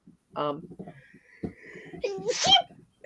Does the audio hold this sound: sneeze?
yes